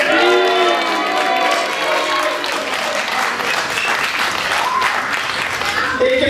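Audience at a Norwegian comedy show applauding a tag team wrestling champion, loud sustained clapping and cheering from a crowd with some voices over it.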